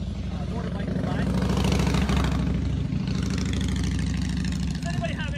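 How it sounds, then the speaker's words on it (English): A motorbike rides by outdoors beside a front-yard garden, its engine a steady loud mid-to-low drone that swells toward the middle and then fades, with a person talking over it throughout. "We'll just let this motorbike ride."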